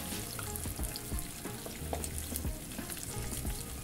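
Eggs crackling and sizzling in a hot pan while being gently broken apart along their seams, with steady close frying and scattered scraping and stirring touches, no voices.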